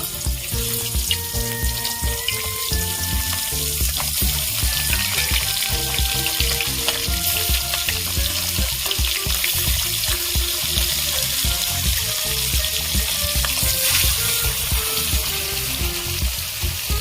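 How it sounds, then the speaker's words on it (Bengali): Fish frying in hot oil sizzles steadily and close by, with a dense crackle running throughout. Tonal clattering sounds that may be utensils or other kitchen noises are layered over it, and no one speaks. "তেল গরম হয়ে গেছে মাছ ভেজে নেব"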